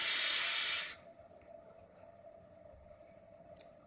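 A Delta II vaporizer takes an overpowered hit: a loud, sharp hiss of vapor for about a second that cuts off, followed by quiet with a faint hum and a couple of tiny crackles.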